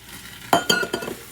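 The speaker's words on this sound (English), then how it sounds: "And stir it" A spoon stirs gumbo in a pot, giving a few quick scraping clinks that come in a short irregular burst, close and fairly clear, with no talk.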